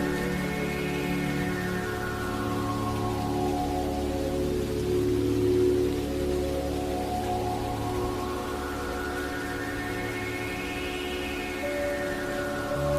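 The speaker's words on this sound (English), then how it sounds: "The soft sound of rain continues to tap gently on the window." Steady rain patters against a window in a continuous soft hiss, with a low tonal hum and slow rising and falling drones running beneath it.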